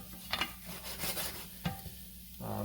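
Onions softening in oil in a pan for risotto, a quiet sizzle with occasional spoon scrapes and light clinks against the pan, close up with no talking.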